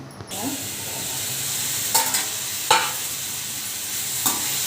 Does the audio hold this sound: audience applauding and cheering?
no